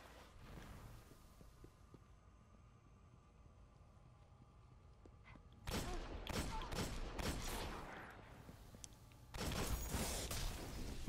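Bursts of video game gunfire crack out in rapid clusters after a quiet stretch, with a sustained volley near the end, loud and close over faint background ambience.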